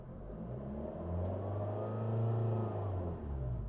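A car engine revs up smoothly under plenty of throttle during a learner's careful pull-away, its hum rising and holding steady for a few seconds before easing off, close and continuous with no talk.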